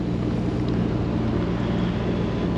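A boat engine drones at a steady, loud, low pitch while cruising on the Norfolk Broads in October, close by with wind buffeting the microphone and no break in the hum.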